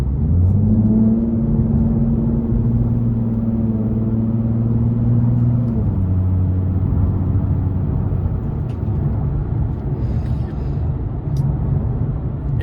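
A Ford Mustang accelerating toward 70 while driving, heard from inside the cabin as a steady engine drone that rises in pitch, shifts at one gear change, then settles into a constant road rumble.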